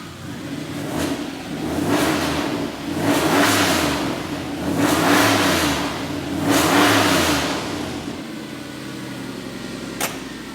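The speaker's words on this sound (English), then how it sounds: "I'll give it a rev." A car engine revs repeatedly in four rising and falling swells, loud and close and alone, before settling back to a steady idle in a shed.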